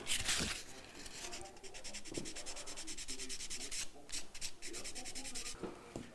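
A part of a de Havilland model aircraft is sanded by hand in steady, close, continuous rubbing and scraping strokes that hold for several seconds, with slight pauses between passes. A faint voice is audible in the background.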